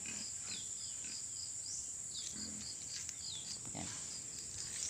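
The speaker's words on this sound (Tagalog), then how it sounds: "tapos na ako magpakain dito sa aking mga alagang baboy" Native pigs on a muddy provincial farm grunt and squeal at feeding time, with several overlapping calls at moderate distance over a steady insect hum and no talking.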